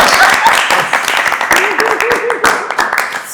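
Audience applause at an interview, a cluster of claps that loosens into a slower, uneven clap, with people talking over it.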